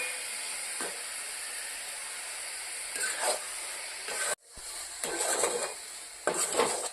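A coconut laddu mixture gets stirred in a pan over a gas flame, with a soft steady hiss underneath and a few scraping, clinking strokes of the spoon against the pan, no talk.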